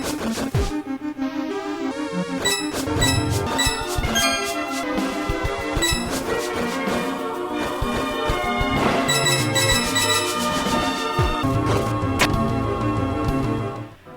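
Many bells ring together in a bright, busy cluster of tones and dings, struck repeatedly in overlapping rhythms for several seconds before fading abruptly.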